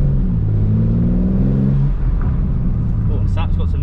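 Engine and exhaust of a new BMW M3 while driving, heard from inside the car as a steady low rumble that rises in pitch during acceleration before settling, with a voice speaking over it.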